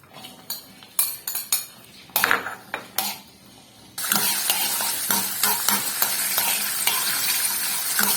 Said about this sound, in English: I'm going to add them in oil to fry them for garnish